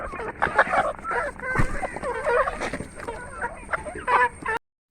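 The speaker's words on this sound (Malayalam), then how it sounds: "അത്യാവശ്യം കോഴികളൊക്കെ എത്തിയിട്ടുണ്ട്." Chickens cluck and squawk steadily as they crowd in to peck at black soldier fly larvae raised on spoiled rice, with several birds calling close by and a voice talking underneath.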